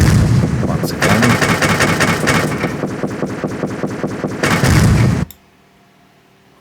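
Rapid, dense bursts of explosions and blasts fill a Godot 4 space shooter game, a loud continuous barrage of booms that stops abruptly into near silence.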